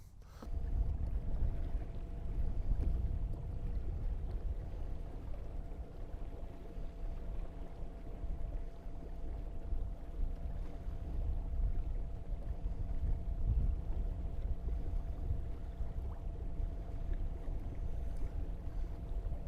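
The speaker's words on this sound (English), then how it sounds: "running the top speed test now. Justin's up there driving the Ghost" A boat runs at top speed on a Lowrance Ghost electric trolling motor, a steady low hum with water and wind rush, continuous and moderately close.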